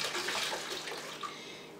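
Water rushing and splashing as a kitchen part is washed in bleach and soapy hot water, a short close gush that fades slightly, no talking.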